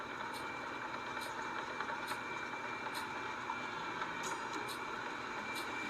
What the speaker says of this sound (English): The truck's bringing the asphalt from the plant.